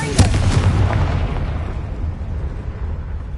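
A Confringo spell in Hogwarts Legacy erupts in a close, loud blast, its rumble slowly fading over a few seconds.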